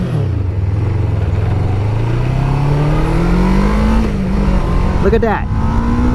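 A 1991 Kawasaki Ninja EX500 motorcycle engine accelerating, loud, close and continuous, its pitch climbing steadily through the revs with wind rush and a brief shift near the end, while a rider speaks briefly over it.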